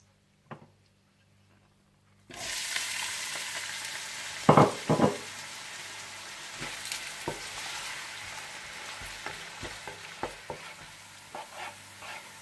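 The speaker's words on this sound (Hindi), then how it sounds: "इसमें आप डाल दें कड़ी पत्ता और प्याज डालकर गोल्डन फ्राई कर लें" Curry leaves and onions hit hot desi ghee after a brief quiet tap, bursting into loud close sizzling that settles into steady frying, with a few sharp clatters and stirring scrapes and no talk.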